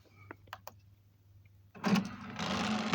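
A few faint clicks come first. A kitchen mixer then whirs into motion with a loud, rattling, buzzing brrr that holds steady to the end.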